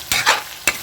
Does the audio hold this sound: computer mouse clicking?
no